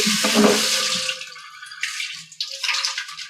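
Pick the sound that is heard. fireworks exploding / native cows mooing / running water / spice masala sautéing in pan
running water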